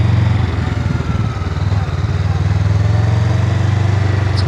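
A Honda Rebel 500 motorcycle putters along slowly in first gear with a steady, low, throbbing engine note, sounding close and even throughout.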